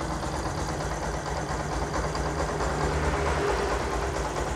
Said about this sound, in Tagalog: idle lang. Pero ang maganda nito, hindi siya namamatay.